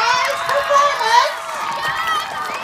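A crowd gathered outdoors for a surprise band performance shouts and cheers, a mix of high excited voices and whoops rising and falling, fairly loud and close.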